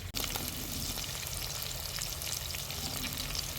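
Chopped onions and green chillies fry in a hot pan for a mushroom curry. After a sharp knock at the start comes a dense, even sizzle that holds steady throughout, close and fairly loud, with no talking.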